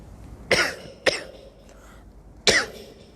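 Coughing in a quiet room during an early-morning religious study session, with two sharp coughs close together followed by a third after a pause, each one short, near and fairly loud, with no talking.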